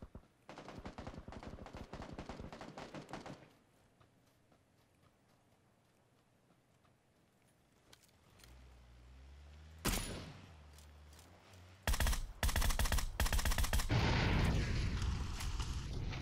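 Gunfire in the video game PUBG: a rapid burst of shots at first, a quiet stretch with a vehicle rumble, then a sharp blast and more loud, close volleys toward the end.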